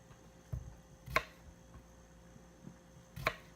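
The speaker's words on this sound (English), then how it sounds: "Then I just cut a few slices for me." Knife cutting slices from a cucumber on a board, a few separate crisp chops spaced apart, close and fairly quiet.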